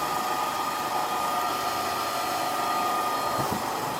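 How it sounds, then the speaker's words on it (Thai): A loud, steady motorized roar of a Bosch GAS400A heavy-duty vacuum, switched on with a saw, runs continuously at close range, an even airy whine with no voices. "ถ้าผมเปิดเลื่อยแบนซอนี้ เครื่องดูดฝุ่นก็จะติดแล้วครับตอนนี้"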